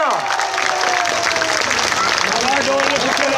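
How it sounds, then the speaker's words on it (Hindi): Applause from a crowd at a Pakistani awards event honoring a social media team, a broad steady wash of clapping with some cheering that fills the whole stretch at close, even loudness. "और मैं चाहूंगा कि सोशल मीडिया टीम के लिए भी भरपूर तालियां"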